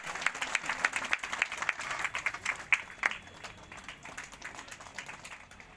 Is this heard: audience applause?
yes